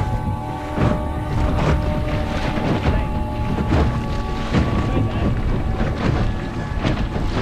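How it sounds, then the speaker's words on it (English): Wind buffets the microphone while sailing a small Oz Goose sailboat during an impromptu race, a loud, steady rushing roar with gusty thumps and water noise throughout. "Hey, you got some wind."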